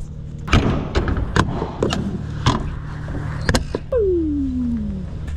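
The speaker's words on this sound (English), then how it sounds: "Shut these back doors up and get heading back to the yard." Several heavy thuds and clunks of a truck's back doors being shut close by, followed by a whirring mechanical sound that winds down.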